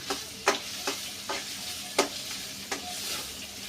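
Sliced onions and green chillies fry in oil in a pan with a steady soft sizzle, punctuated by several sharp clatters of a spoon stirring against the pan.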